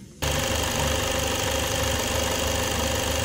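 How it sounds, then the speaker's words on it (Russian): A rebuilt 4D20 diesel engine catches abruptly after a brief quiet moment, then settles into a steady, loud, rhythmic idle with a knocking chug. "Мотор работает, все хорошо."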